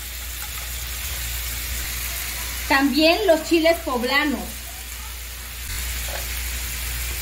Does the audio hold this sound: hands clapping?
no